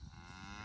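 A high-strung beef cow being moved on a grass-fed cattle farm lets out a single sustained moo, loud and close, with no talking over it.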